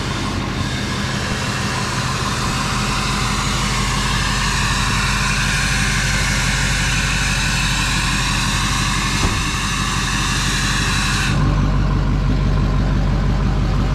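A Duramax diesel truck engine runs on tune 2, a loud, continuous broadband roar with a low rumble underneath, holding steady for the whole stretch, then dropping abruptly in its higher tones near the end.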